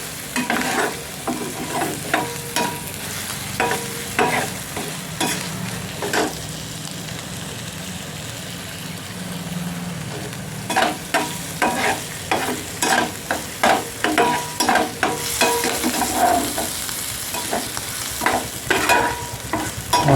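Onion and garlic fry in a pan for a chicken and arum-leaf (kochu shak) curry, a steady close sizzle broken by repeated scraping stir strokes that grow busier toward the end.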